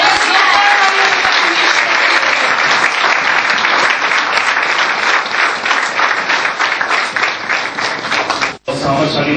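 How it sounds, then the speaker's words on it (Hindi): A church congregation bursts into loud, sustained applause, a dense wash of many hands clapping at once that fills the space for about nine seconds before cutting off abruptly near the end. "a big hand to our Jesus"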